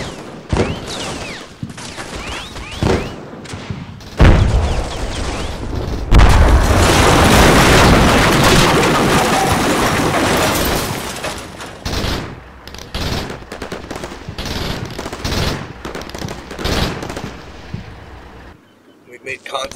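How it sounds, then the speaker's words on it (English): Sporadic small arms fire from a bunker mixed with heavy explosions in the Combat Mission: Shock Force war game, a dense roar of booms and gunfire swelling loud midway before thinning to scattered shots. "Some sporadic small arms fire from the bunker."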